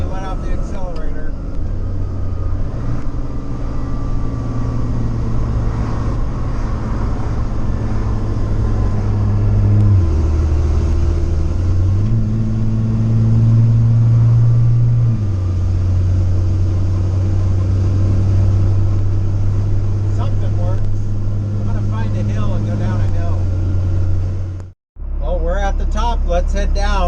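A CAT 3116-powered LMTV military truck fitted with a Pacbrake PXRB exhaust brake drives along, its low, steady engine drone shifting in pitch as the brake engages off-throttle, loud and continuous with brief talk over it and a sudden cutout near the end.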